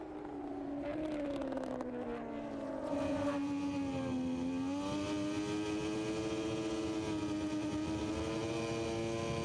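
Moto2 racing motorcycles at the 2023 Indonesian Grand Prix scream past at high revs, a sustained, rising and falling engine whine from several bikes with clear gear-shift pitch changes, heard alone without talk.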